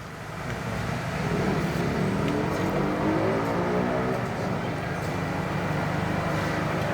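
Renault Clio 2 1.4 16V petrol engine running steadily on a lift with the car raised and rear wheels spinning free, a continuous close hum holding an even level throughout.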